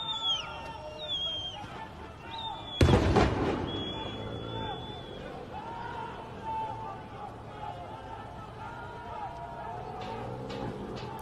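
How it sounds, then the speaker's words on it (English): A stun grenade bursts once, sharp and loud, during confrontations between protesters and security forces, set against street crowd noise and distant shouting that carry on after the blast. "I assume those are stun grenades, sound grenades."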